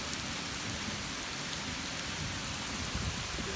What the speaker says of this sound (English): this kind of rain in Utah means flash flooding, death and destruction